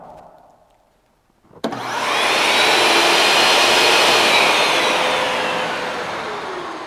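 A SawStop jobsite table saw switches on after a brief quiet moment with a Festool dust extraction vacuum running alongside, producing a loud, steady whine and roar that holds for several seconds before easing slightly.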